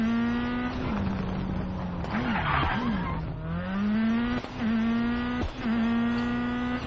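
Toyota Yaris rally car racing in WRC 10, its engine holding a steady loud drone with rising and falling revs, brief tire skids and squeals on corners, close and continuous.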